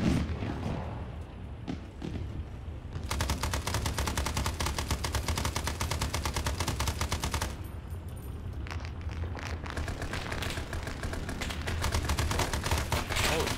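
Rapid automatic gunfire in ArmA: S.O.G. Prairie Fire, a dense, continuous rattle of shots with thumps and booms underneath, loud and sustained across the whole stretch with brief pauses.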